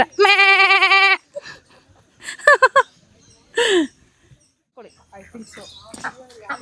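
A Bannur sheep gives one loud, close, wavering bleat, followed by a few shorter, quieter calls and voices in a mostly quiet setting.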